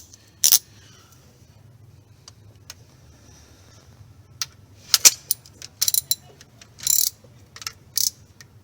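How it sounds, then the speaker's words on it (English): A ratchet wrench works loose the spark plugs on a Toyota Camry engine, giving scattered bursts of sharp clicking and ratcheting at close range over a quiet background. "So let's remove the spark plugs."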